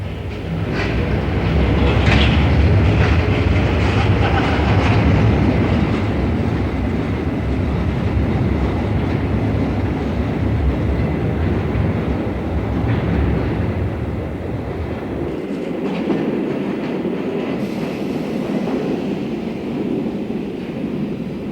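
An underground train rumbles steadily along the track, loud and close, with rhythmic clatter; the noise drops somewhat near the end as it passes or slows.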